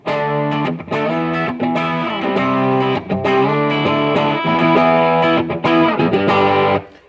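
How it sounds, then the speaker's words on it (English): Electric guitar played through a Route 66 overdrive pedal, producing a thick, growly distorted tone with sustained chords and short breaks, loud and continuous for about seven seconds before cutting off. "Good growly kind of a distortion. It's a great pedal, Route 66."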